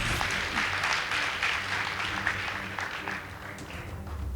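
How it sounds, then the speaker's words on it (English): An audience at a high school debate competition claps steadily for a girls' high school team after its score is announced, a moderate round of applause that fades slightly toward the end. "Please give them a round of applause."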